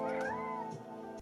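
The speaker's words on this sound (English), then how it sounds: "all 3 of my cats have officially made an appearance in a video." A domestic cat gives a loud, drawn-out meow close by, rising and then falling, followed by a shorter second call, with no voices around it.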